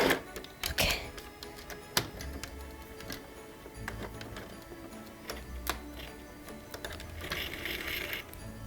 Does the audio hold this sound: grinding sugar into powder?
no